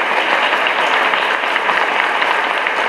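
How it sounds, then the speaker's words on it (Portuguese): A church congregation in a cathedral parish hall breaks into loud, sustained applause after a confirmation Mass, a dense, even wash of many clapping hands close by. "Vamos dar uma grande salva de palmas e parabéns para quem foi crismado."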